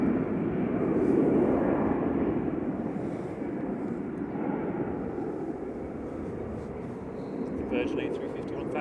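Aer Lingus airliner at Manchester Airport on its take-off roll, a steady, fairly loud broadband engine roar that swells slightly then holds, heard from a spotting position outdoors.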